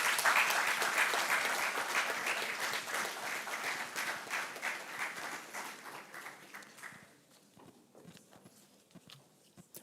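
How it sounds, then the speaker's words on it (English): An audience at a book launch applauds loudly and steadily, the clapping gradually fading and thinning out to a few scattered claps by the end. "Let's give him a round of applause again, please."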